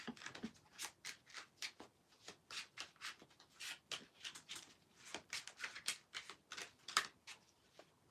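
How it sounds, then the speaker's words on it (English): A deck of tarot cards being shuffled by hand, giving a quiet run of rapid riffling and flicking bursts in an uneven rhythm, close by and heard alone without any talk. "Oh, I've shuffled them now."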